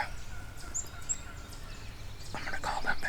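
Wild turkeys gobble a few times at a distance during a hunt in the woods, their short rattling calls rising out of a faint outdoor background, loudest near the end.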